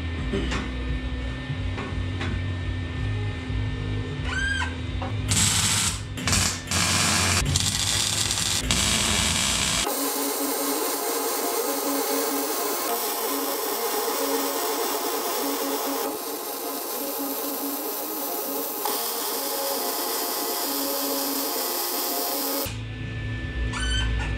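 Steady, continuous hiss and crackle of a welder fusing a rear Blazer fuel tank into a 1989 Chevy S10, loud and unbroken for long stretches with brief pauses between passes.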